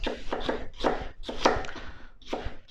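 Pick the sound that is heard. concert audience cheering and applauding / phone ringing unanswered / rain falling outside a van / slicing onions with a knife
slicing onions with a knife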